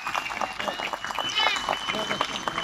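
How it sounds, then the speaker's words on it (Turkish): Festival crowd in Beykoz meadow applauding association leaders, scattered clapping mixed with crowd noise and a voice over a loudspeaker, with people talking throughout. "bütün yönetici arkadaşlarımızı alkışlamanızı istiyorum kardeşim"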